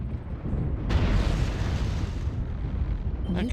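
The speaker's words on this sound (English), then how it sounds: "I've just dropped my artillery" An artillery strike landing in the mech combat game MechWarrior Online: a sudden heavy explosion swells into a long, loud rumbling roar that rolls on for several seconds before easing slightly.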